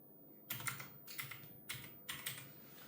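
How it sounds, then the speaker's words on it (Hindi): Bursts of typing on a computer keyboard, close and quiet, with clusters of rapid key clicks separated by short pauses, no voices. "तो मैं अब लिख रहा हूँ मोहम्मद नासिर,"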